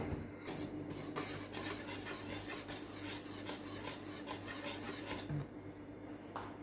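A utensil stirs puto rice-cake batter with baking powder in a bowl, producing continuous scraping and clinking strokes at a close, moderate level that stop near the end.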